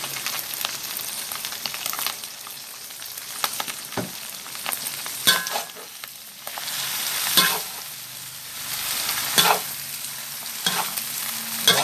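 Wide rice noodles stir-fried with soy sauce, chicken and fish balls in a hot pan, giving a steady loud sizzle broken by scraping clatters of the spatula tossing the food.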